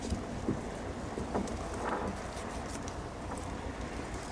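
A Master 651 patrol boat with a Mercury outboard engine, used by border guards on the water near Astrakhan, gives a steady broadband engine drone mixed with wind buffeting the microphone.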